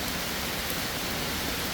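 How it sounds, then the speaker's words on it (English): Steady rain falling over a koi pond during a summer thunderstorm, a dense, even hiss of drops on water and surfaces, continuous and fairly close with no talking. "I absolutely love sitting out at the pond in a good rain."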